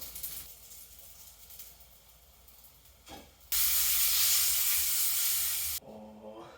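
A loud, steady sizzling hiss erupts suddenly as mac and cheese wontons fry, holding for a few seconds before cutting off, after quieter clattering kitchen sounds.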